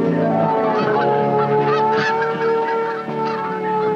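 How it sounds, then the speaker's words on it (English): Flock of wild geese honking loudly and continuously outdoors, many overlapping calls layered into a dense, steady chorus with no pauses. "Wild geese filled the skies"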